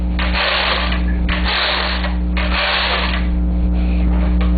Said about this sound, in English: Then I'm going to knit a few rows so that I can take the hem off the machine and show it to you.